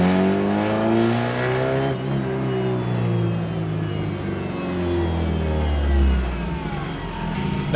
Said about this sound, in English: That is easily the loudest car I think I've ever been in.